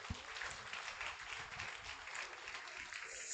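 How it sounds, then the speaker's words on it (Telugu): A church congregation at a thanksgiving service breaks into steady applause, a dense wash of many hands clapping that runs the whole stretch at moderate distance. "గట్టిగా ఒకసారి చప్పట్లు కొడదాం."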